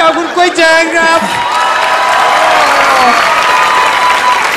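A studio audience on the Thai game show Killer Karaoke applauds loudly, mixed with cheers and whoops. A voice rises over the crowd at the start, then the dense clapping holds steady throughout.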